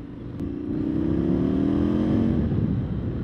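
Indian FTR1200 S motorcycle with its 1200 cc engine running steadily up close, a continuous throaty idle with a rising harmonic drone and no voices.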